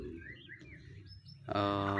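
Small birds in an aviary cage give a few faint, scattered chirps and tweets, followed by a loud tonal hum or music that cuts in near the end.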